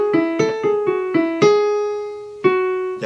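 Melody from a song played as a sequence of clear, bright plucked or keyed notes, several quick hits then a long sustained tone and one more note, close and alone without voices.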